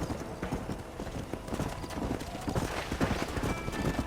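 Horse hooves trot in steady clip-clop rhythm across open ground in the Red Dead Redemption video game, close and continuous throughout, with voices talking over the hoofbeats.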